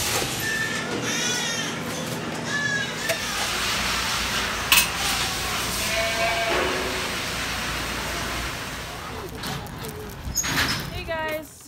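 Goats bleat intermittently at a Western Bonanza livestock show, several wavering cries rising over a busy arena hum while people talk throughout.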